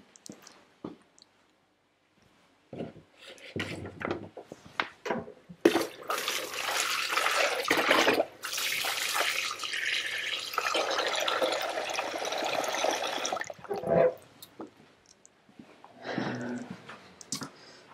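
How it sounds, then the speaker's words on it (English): Kitchen tap water runs into a cooking pot in one steady, fairly loud stream for about eight seconds. A few clunks come first, and it ends with quieter handling sounds. "I'll just get a wee bit more water from my pot and make sure it's filled up."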